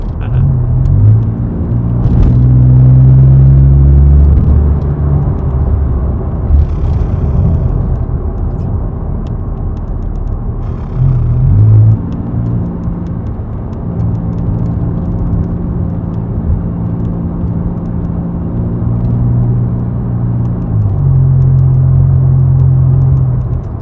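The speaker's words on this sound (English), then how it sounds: "And we're hitting the potholes now." Car bumping over potholes along a forest road, a loud steady engine rumble with intermittent jolts and thuds as the wheels hit the holes.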